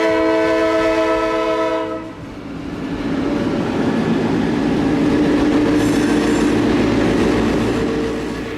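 A full-size train sounds a long, loud, steady horn blast up close, then rumbles past with a broad roar and rattling wheels that fill the rest of the clip.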